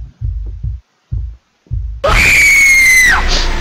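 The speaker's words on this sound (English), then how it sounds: "You gotta be ready for that scream." Throbbing heartbeat thuds pulse in a horror video game, then a sudden loud, sustained scream bursts in and holds for about a second before cutting off.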